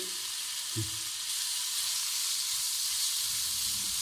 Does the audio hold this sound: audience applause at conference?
no